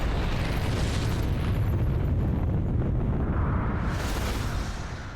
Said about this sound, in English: Oh, he just exploded.